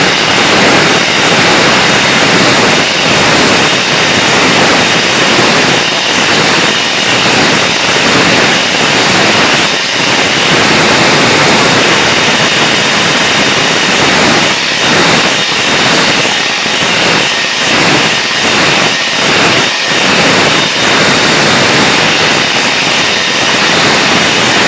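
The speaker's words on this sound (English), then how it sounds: "I'll find my hairdryer" Hairdryer blowing steadily to dry a damp watercolour painting, a loud, continuous close-up roar of rushing air and motor whine with slight fluctuations throughout.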